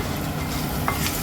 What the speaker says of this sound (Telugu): ఇది కొంచెం కరివేపాకు వేస్తున్నా, అది కూడా బాగా వేగనివ్వాలి.